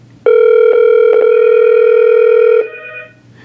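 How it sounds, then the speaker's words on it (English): An ESI ePhone4 desk phone rings once after its intercom speed-dial key is pressed: a loud, sustained electronic tone that begins abruptly, holds for about two seconds, then cuts off into a fainter trailing tone. "if I press Tyler's speed dial key right now, his phone's going to ring until he answers it"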